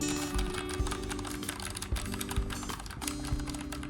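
Rapid clacky typing on an RK61 mechanical keyboard, irregular keystrokes with a few heavier thocks, close and steady with a hum underneath.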